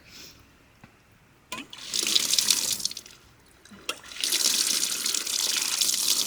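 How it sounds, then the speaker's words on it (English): Spring water running from a public mineral water fountain in Hot Springs, Arkansas into a water bottle, two bursts of close, hissing splashing flow separated by brief pauses. "I'm gonna fulfill my little water bottle destiny here and get some spring water."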